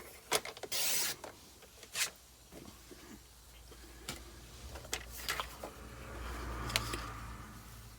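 Card paper being cut for a Father's Day card, with a few short scraping strokes and small ticks and rustles close by, quiet overall.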